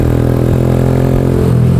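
A motorbike engine hums steadily at close range while being ridden through busy street traffic, its mid-pitched drone continuous with slight revving and no voices over it.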